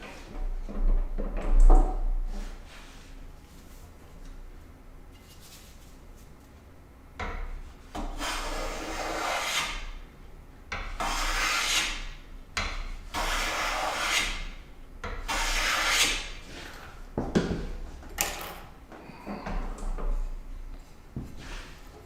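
A hand plane shaves wood while fitting a sliding tail vise, giving repeated rasping strokes in uneven bursts that rise and fade, close and fairly loud, with quiet pauses between passes.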